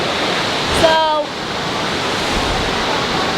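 A waterfall beside a river among rock mountains in Pakistan makes a loud, steady broadband rush of falling water, continuous throughout, with a brief tonal chirp early on.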